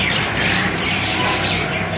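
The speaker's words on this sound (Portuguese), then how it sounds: "Periquito australiano." Budgerigars in a pet shop chatter and chirp continuously, a dense, busy flock of high calls at close range with no pauses.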